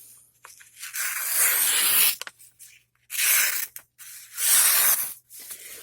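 Folding knife, a Y-START LK5011 tanto with ceramic bearings, ripping through wrinkly printer paper in a humid basement: three close, rough tearing strokes separated by brief pauses.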